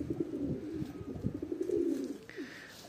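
Breeding pigeons coo close by in a loft, with a series of low, rolling, throaty calls that overlap and pulse, plus a faint higher chirp near the end.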